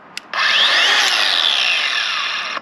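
A cordless angle grinder cuts through metal bolts. After a brief click it spins up into a loud, continuous, high-pitched cutting whine that holds steady for about two seconds, with no talk.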